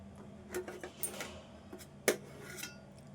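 A knife chops through bottle gourd with its peel left on, giving a few sharp, close cutting knocks with one louder strike, while faint kitchen clatter sits underneath.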